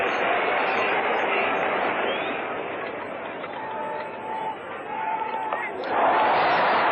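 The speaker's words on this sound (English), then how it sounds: "Magnificent West Indian crowd on their feet" A crowd at Lord's cheers after a boundary in the 1975 Cricket World Cup final, West Indies against Australia, a sustained broad roar from many spectators with a commentator talking over it.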